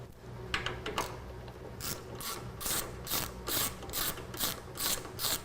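A ratchet works T40 Torx battery bolts loose on a 2011 Harley-Davidson Street Glide, producing steady rapid pawl clicking in repeated strokes, close and fairly quiet, with no voices.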